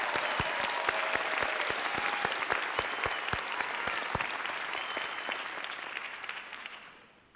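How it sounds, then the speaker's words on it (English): Sustained applause from a large audience at a college commencement ceremony, dense steady clapping with a few sharp nearby claps, tapering off at the end. "So I ask all of you to please give a big round of applause to your dean, Dean Vanessa Valdez."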